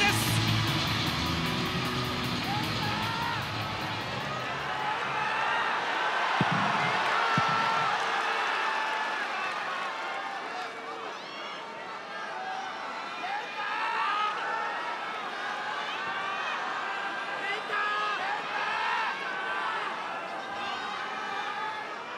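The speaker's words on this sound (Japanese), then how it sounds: "ものすごい割れんばかりの歓声です。" A large crowd in a wrestling arena keeps up a loud, continuous roar of cheering that is strongest at the start and then settles into a sustained crowd noise, with a commentator talking over it.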